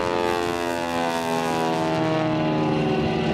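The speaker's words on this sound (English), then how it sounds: "The sound that you hear from that motor is actually the sound of the propeller tips going supersonic" A propeller airplane engine at an air show drones loudly and steadily, with a rasping, buzzing whine of many stacked tones from the propeller tips going supersonic, and no voices.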